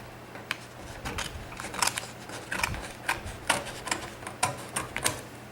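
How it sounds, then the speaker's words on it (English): Scissors snip through the backing paper of a decal in a series of small crisp cuts at an irregular pace, close and fairly quiet against a low background hum. "you take your scissors, and I'm going to cut off this backing"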